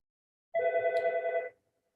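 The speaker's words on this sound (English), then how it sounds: "Phone." An office telephone rings with one loud, trilling burst of about a second, its warbling bell tone fluttering rapidly before stopping, with quiet around it.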